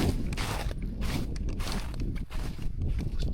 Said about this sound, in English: Some little crunchy snow